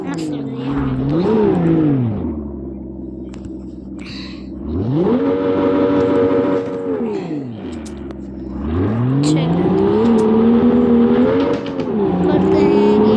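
A new car's engine revs in the Driving Zone Online racing game, rising and falling in long swells through several gear changes, loud and close, with someone talking over it.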